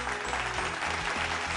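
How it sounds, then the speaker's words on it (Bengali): Audience applause at a Bengali family game show on television, steady broadband clapping throughout with background music tones beneath, no talking. "জোরে হাততালি।"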